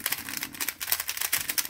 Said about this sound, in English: it's clicking into place a lot better, which is a bonus